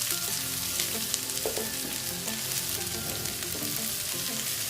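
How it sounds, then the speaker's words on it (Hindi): Shredded cabbage, carrot and capsicum frying in hot oil for chicken fried rice, a steady close sizzle with occasional stirring scrapes and no talk. "वेजिटेबल में एक छोटे साइज की थोड़ी सी इसमें बंद गोभी डालेंगे, थोड़ी सी गाजर, थोड़ी सी शिमला मिर्च"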